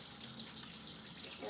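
Tap water runs in a steady hiss over hands and a bar of soap, close and continuous for a brief moment.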